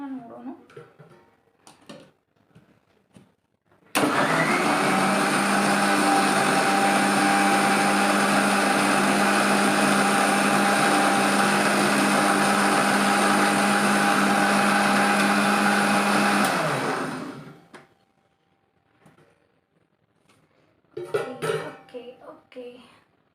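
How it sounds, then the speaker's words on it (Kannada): An electric mixer grinder churns homemade butter in a loud, steady whir of about twelve seconds that cuts off abruptly. People talk and cough before and after it runs. "ಇನ್ನೊಮ್ಮೆ ಮಿಕ್ಸಿ ಮಾಡಿಬಿಟ್ಟು ಗಟ್ಟಿ ಆಗ್ತದ ನೋಡೋಣ"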